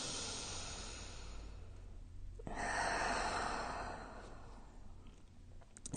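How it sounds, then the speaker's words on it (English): A long, slow exhale during a Pilates breathing exercise, a soft airy rush that swells in the middle and fades, close and quiet with no talking. "Big breath out."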